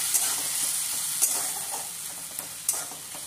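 Tomato puree sizzles steadily in a pan, with a soft frying hiss and occasional sharp clicks from stirring.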